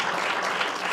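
Dense, steady applause from an audience at a panel event marking Angola's 50th independence celebration, loud and continuous throughout with no break.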